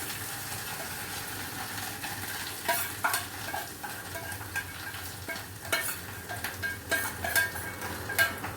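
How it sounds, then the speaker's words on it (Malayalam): Dried mackerel fries in a pan, a low steady sizzle broken by repeated scraping stirs and clatters of the spatula, moderately close and with no talk. "ഇനി നമുക്ക് ഈ മീൻ ഇതിലേക്ക് ഇടാം കേട്ടോ"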